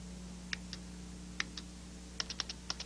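Sparse keystrokes on a computer keyboard, a few isolated clicks then a quick burst of several, faint against a steady low electrical hum in a 1990s television segment demonstrating a database search.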